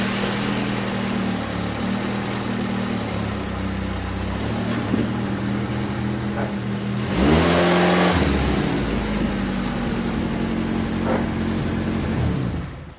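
A 1984 Toyota Tercel SR5, fresh plugs and wires fitted and an exhaust being fixed, idles steadily nearby before a brief loud rev as it rolls off ramps, then settles back to a humming idle.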